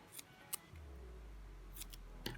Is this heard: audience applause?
no